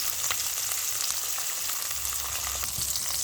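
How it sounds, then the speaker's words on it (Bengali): Fish fry in hot oil with a loud, dense, continuous sizzle and crackle, close up with no voices. "মাছগুলো সুন্দরভাবে লাল লাল করে ভেজে নিতে হবে।"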